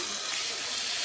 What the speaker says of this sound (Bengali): তারপর পানি দিব